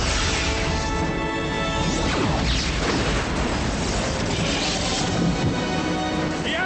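Loud space battle explosions from Star Trek: Generations, with continuous crashing booms, debris whooshes and rumbling blasts filling the whole stretch at close, overwhelming volume.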